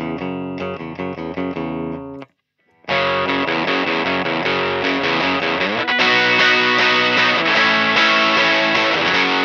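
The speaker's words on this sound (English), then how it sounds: "So the 335 straight in sounds like this." An ES-335 guitar played clean straight into a Cornell Romney Pro amp, with ringing chord strums and a short phrase, a brief pause near two seconds, then fuller sustained strumming that grows louder toward the end.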